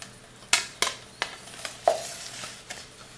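Cream poured into hot cooked sugar caramel in a pan, a soft sizzle broken by several sharp clinks and scrapes of a utensil stirring against the pan, close and fairly quiet.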